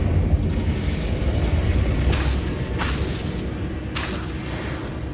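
Incendio fire spell blasts in Hogwarts Legacy, a steady roaring rumble with a few sharp whooshing bursts flaring up over a dense, continuous low boom.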